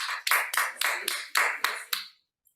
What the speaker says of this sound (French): Je demande d'applaudir à Lilia pour ce travail.